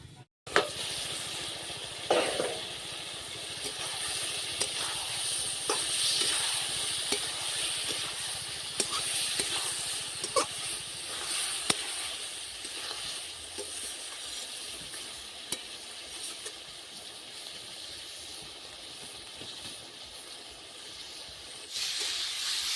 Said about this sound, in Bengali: সবজিটা আমার কষানো হয়ে গেছে, এখন আমি দিয়ে দিব জল।